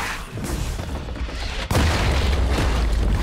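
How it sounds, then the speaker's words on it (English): A turret being destroyed in League of Legends, with booming blasts and crackling impacts amid game noise, topped by one sudden heavy explosion around the middle that rumbles on afterward. "Blue team's turret has been destroyed."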